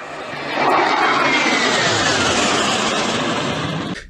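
Fighter jet aircraft engine roaring loudly and steadily, swelling up after a half-second and holding a broad, sustained rush before easing off at the end.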